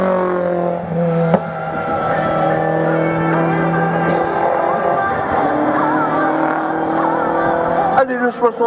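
A race car at a regional hill climb in Hébécrevon, driven sideways in a drift, its engine droning loud and steady with a sharp transient near the start, while an announcer talks over it in French.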